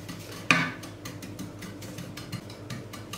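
A metal spoon spreads milk pudding (muhallebi) over kadayif in a rectangular glass baking dish, giving one sharp clink followed by a steady run of soft, repeated scraping strokes, close up with no talking.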